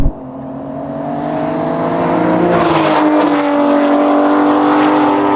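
Aston Martin V12 cars, from Vantage to Valkyrie, in a drag race, a loud engine howl climbing steadily in pitch with a gear shift midway, then rising again.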